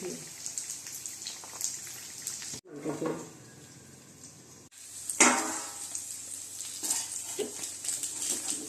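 An egg dish sautés in a pan at home, soft sizzling mixed with scraping stirs and clinks of a spatula against the pan, with brief pauses and a sharper clatter partway through, fairly faint and close.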